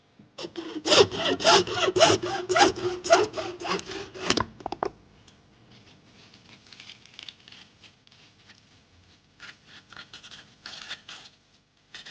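Hand sawing through wood, a fast steady run of rasping back-and-forth strokes for several seconds, then quieter scattered scraping and handling noises.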